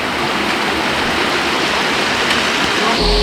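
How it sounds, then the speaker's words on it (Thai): Steady, dense rain falls at a waterfall in Phu Toei National Park, a loud, constant wash of hissing water with no pauses, and a brief faint tone near the end. "แต่ฝนตก"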